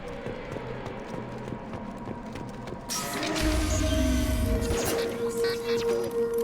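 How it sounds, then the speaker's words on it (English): A Fenris mech draws near in Mass Effect 2: a low ambient hum gives way to a sudden louder mechanical clatter with a heavy low rumble and irregular clip-clop-like metallic steps, close and growing. "Hear that? Sounds like Fenris mech."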